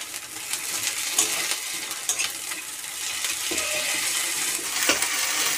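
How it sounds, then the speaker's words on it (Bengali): Ginger and garlic paste frying in a pan makes a steady, soft sizzle, with a spoon stirring and scraping now and then. "আদাটা একটু ভেজে নিই"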